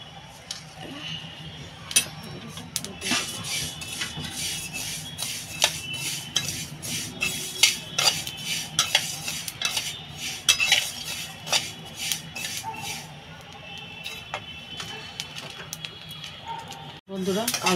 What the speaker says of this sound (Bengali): এবার বন্ধুরা আমি এই যে কালো জিরেটা ভেজে নেব।